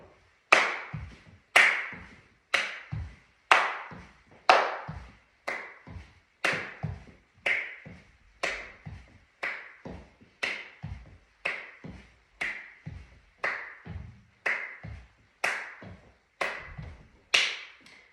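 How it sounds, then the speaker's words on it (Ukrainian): Hand clapping in front of the chest while marching in place during a children's morning exercise routine, giving about twenty loud, evenly spaced claps at a steady walking pace, nearby and with no talking. "ходьба на місці з плесканням долонь перед грудьми"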